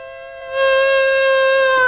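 A voice imitates a siren with a steady, rising wail that swells louder after a soft start and holds, close and alone.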